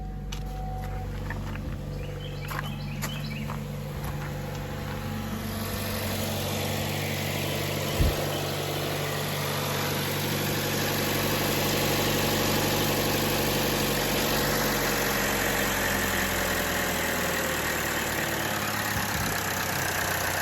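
A 2014 Chevy Cruze 1.4L turbo engine idles after a mass airflow sensor replacement, a steady close hum with a low droning rumble and no change in pace.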